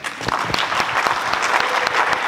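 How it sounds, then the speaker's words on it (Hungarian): An audience at a wedding expo claps steadily for the guests, a brief burst of dense, close applause with no voices standing out. "a szolgáltatókat kérem, hogy tapsolják meg a jelenlévő vendégeket"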